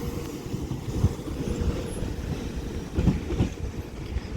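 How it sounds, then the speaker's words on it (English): A double Transport for Wales Class 197 diesel unit arriving into a platform at Manchester Piccadilly, with a steady low rumble and rolling wheel noise, a few louder clunks from the rails near the end, heard up close without talk. "This terminates in onto platform 10 now with a service from Milford Haven with a double Transport for Wales Class"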